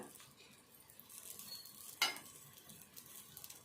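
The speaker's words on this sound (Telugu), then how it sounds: "ఇంకా కొద్దిసేపు కూడా ఇది మంచిగా ఫ్రై కానిద్దాము." Food frying in a pan on a stove set to a low flame gives a faint, steady sizzle, with one brief metallic clink partway through and no voices.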